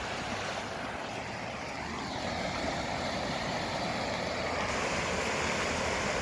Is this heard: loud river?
yes